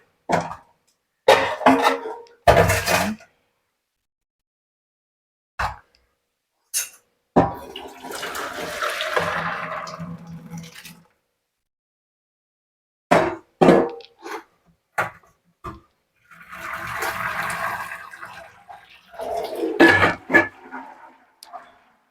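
Hot water drains off cooked vermicelli (semiya) for upma into a strainer, with two long splashing pours separated by short clatters and a quiet gap.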